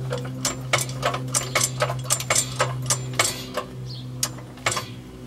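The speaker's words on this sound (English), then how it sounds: "you need to jack up the transmission" Jack raising the transmission of a GMC Safari or Chevy Astro van, giving a rhythmic series of close ratcheting clicks over a steady low hum.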